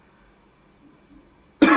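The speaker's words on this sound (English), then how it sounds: "clearing my throat" After near silence, one abrupt, loud throat clearing breaks in at the very end, close to the listener.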